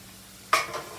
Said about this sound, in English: They're frying up just really good.